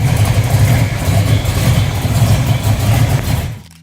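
A Ford 427 Cammer big block V8 with single overhead cams runs loud and close, a steady deep rumble with slight surges, then cuts off abruptly at the end.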